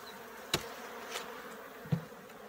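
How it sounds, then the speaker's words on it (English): Honey bees in an opened hive with old comb, eggs and larvae, during an inspection of a sick colony; a faint steady insect hum runs throughout, broken by a few short, sharp handling knocks. "very many bees in here"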